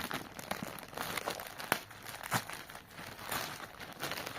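A plastic-wrapped Myntra parcel being opened, with close, continuous crinkling and rustling of plastic and a few sharper tearing snaps throughout.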